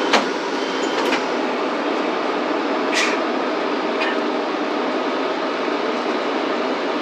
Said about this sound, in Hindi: तो ये मेट्रो आ गई